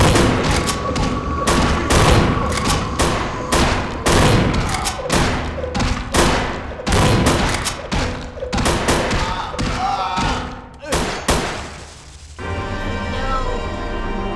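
Rapid bursts of shotgun fire and heavy thuds in a Vampire: The Masquerade - Bloodlines fight, loud and repeated over roughly eleven seconds with shouting mixed in, then giving way to a quieter steady background.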